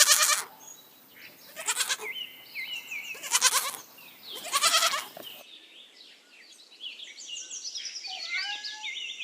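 A goat bleats several times in a row, loud and close, each call a wavering cry; after the last one, birds chirp and twitter lightly on their own.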